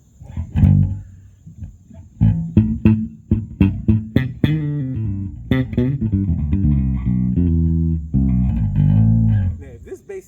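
A HOBO Shoppers electric bass guitar played through an amp, plucking a steady run of deep, ringing notes and short riffs for about ten seconds, loud and close with no talking.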